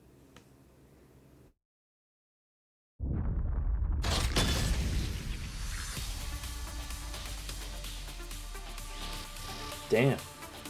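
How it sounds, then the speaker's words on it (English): An explosion on a train in the video game Punishing Gray Raven bursts in after a brief silence as a loud, sustained roaring blast with crackling debris, followed by a sharp secondary bang. "I'm gonna blow it up."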